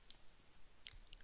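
A few soft, sharp computer mouse clicks on a download link, quiet and close, spaced apart in a near-silent room.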